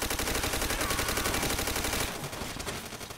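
Rapid automatic gunfire in Call of Duty: World at War, a loud, steady stream of tightly spaced shots that stops abruptly partway through, leaving a softer, scattered rattle of fire.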